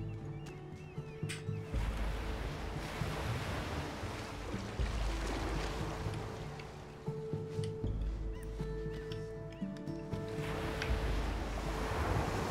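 Rushing water and surf-like waves wash through a side-scrolling puzzle platformer, Unravel, in a seaside level; a broad, steady roar swells and dips over twelve seconds with faint musical tones layered above.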